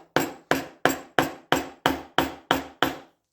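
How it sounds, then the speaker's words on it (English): A mallet strikes a chisel held on top of wood in a vise nine times in an even, steady rhythm, each hit sharp and close with a short decay. "I start giving a wee hit with a mallet"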